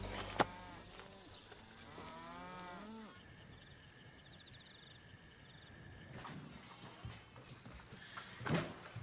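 Cattle mooing on a farm, a couple of drawn-out lowing calls near the start, then quieter outdoor background with faint rustling.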